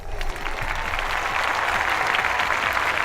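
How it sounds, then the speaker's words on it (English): A podcast audience gives a round of applause, an even wash of clapping that holds at a steady level for about three seconds with no talk over it. "let's give Trump Vader his round of applause because you know how much he loves it"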